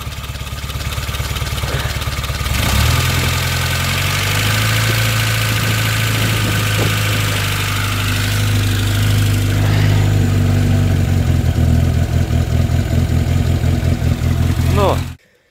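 Cold-started Lada Turbo engine settling into a steady idle, a loud continuous low rumble that runs throughout before cutting off at the end, with occasional speech over it.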